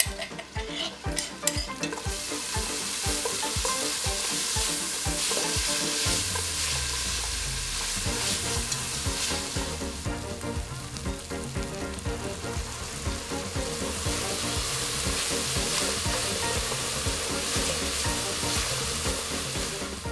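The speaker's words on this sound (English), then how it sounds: "Once hot, sauté the crushed aromatics until fragrant." Crushed aromatics sauté in a hot mix of regular cooking oil and annatto oil for Vietnamese chicken curry, giving a loud, steady sizzle with stirring scrapes throughout and no talking.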